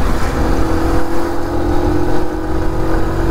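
Engine of a 2023 TVS XL 100 moped pulling under throttle on an open road, a loud, steady buzzing drone with a sustained tone held for a few seconds.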